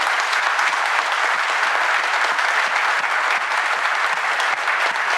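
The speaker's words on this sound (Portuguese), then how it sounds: "Uma salva de palmas" Church congregation applauding, dense sustained clapping from many people filling the room, loud and steady throughout.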